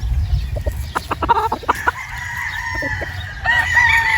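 A farm rooster crows over a steady rumble of background noise, its call breaking into several rising, wavering notes, fairly close and clear, with no one talking.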